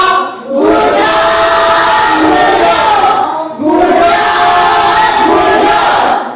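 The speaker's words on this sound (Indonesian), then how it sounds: "Kasih tepuk tangan." A classroom group of students shouts and cheers loudly in two bursts to show appreciation for a presenting student group, a dense, close, tonal crowd roar with a brief dip between the bursts.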